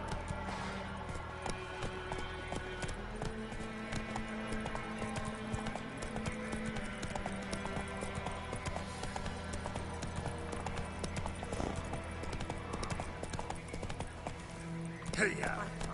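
Roach, the horse in the video game Witcher 3, gallops with a rapid, steady clip-clop of hooves for the whole stretch, with game music and ambience mixed underneath.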